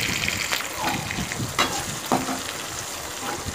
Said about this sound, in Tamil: இப்போது ஃப்ளேமை ஹையில் வச்சுட்டு இதை நம்ம நல்லா சுருளை நல்லா வதக்கி எடுத்துக்க போகிறோங்க